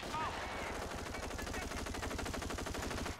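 Sustained rapid automatic gunfire from the Company of Heroes Far East War mod, a pre-WW2 Japanese battle scene: dense continuous machine-gun rattle with overlapping shots, loud and unbroken throughout.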